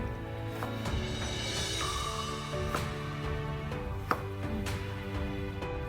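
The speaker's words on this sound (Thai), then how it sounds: "เราก็หั่นมะนาวใส่ลงไปในโหลแบบนี้" A knife slices limes on a cutting board in a kitchen, several soft irregular chops and taps sounding close over a constant background hum, with no talking.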